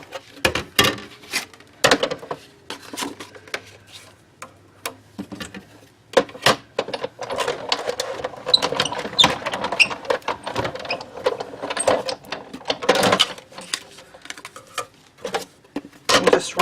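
Die cutting machine pressing paper circles with a standard magnetic plate, a run of irregular clicking, ticking mechanical pulses close by, steady through the whole stretch with no talk.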